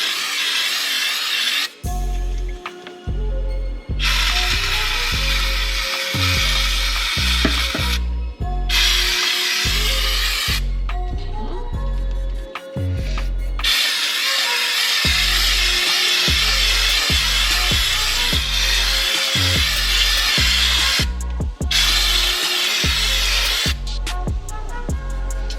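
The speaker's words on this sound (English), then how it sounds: "So now we're going to take our cleaner and we're going to spray" Repeated bursts of spray cleaner hiss onto a UNI foam air filter from a CFMoto ZForce, loud, close, broken into short pulses separated by brief pauses and mechanical clicks.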